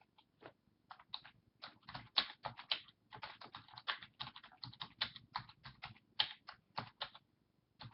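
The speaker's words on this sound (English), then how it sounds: "That's right, I'm typing as I go." Rapid clicking of keys on a computer keyboard, bursts of typing with short pauses, close and quiet, no one speaking.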